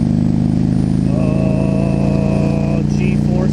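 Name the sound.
motorcycle engine accelerating through gears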